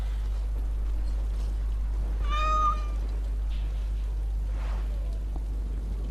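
A cat in the video game Dragon Age: Awakening gives a single clear meow, brief and mid-loud over a steady low hum of game ambience.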